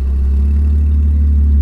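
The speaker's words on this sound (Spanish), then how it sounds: "Es el sonido de un escape libre cuando se lo quiere tener libre" A V12 car engine idles with its exhaust cutout valves open, a steady, loud, deep rumble that holds evenly throughout, close by with no talk.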